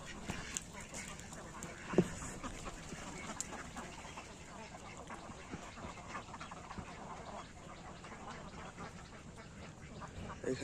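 A large flock of ducks, several hundred birds, quacks continuously in a faint, busy outdoor chorus with overlapping calls and one sharper squawk near the start, with a little background talk.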